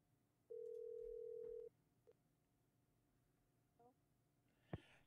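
A telephone gives a single steady electronic tone lasting about a second, followed by faint clicks and a short sharp knock in a quiet room, just before a call is picked up.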